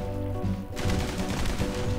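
Gunfire in the video game Guns Gore and Cannoli 2, a quieter stretch of scattered shots, then a dense, loud burst of rapid firing with game music underneath.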